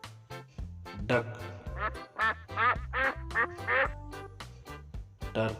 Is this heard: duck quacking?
yes